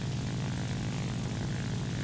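A J7W1 Shinden propeller fighter's engine drones steadily in War Thunder, a loud, unbroken roar with a heavy low hum and no voices.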